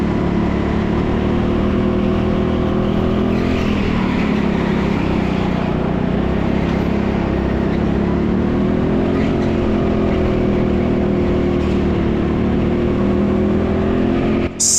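A go-kart engine roars loud and close throughout a lap on the indoor TeamSport Leicester track, holding a steady, droning whine that shifts slightly in pitch as the kart accelerates, with other karts on the circuit.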